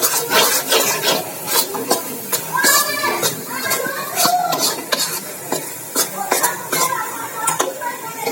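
A spoon stirs a sukhadi mixture of flour roasting in ghee inside a metal pan on the stove. Scraping strokes come close and steady at a regular pace, with a light sizzle underneath and faint voices in the background.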